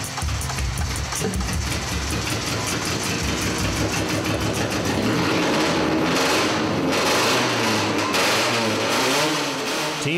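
A modified 1994 Dodge Neon engine runs loud and steady for about ten seconds, its revs climbing and falling in repeated surges.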